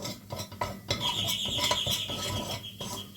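A spoon scrapes and stirs tomato soup in a metal pot on the stove in quick, uneven strokes, with clinks and a faint steady hiss in the background.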